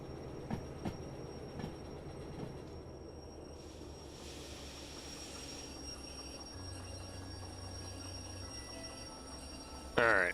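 Steady rumble of a train rolling along rails in the Derail Valley video game, with a few faint clicks early on and a thin high squeal running through, ending with a louder burst near the close.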